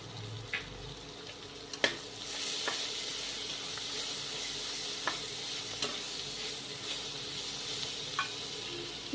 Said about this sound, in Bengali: চিকেন আর সবজি একটু ভাজা ভাজা হয়ে এসছে।